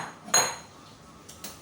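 A spatula clinks against a metal pot while chocolate syrup is stirred with cocoa powder, giving a sharp knock followed by two lighter taps a second later, close and clear in a quiet kitchen.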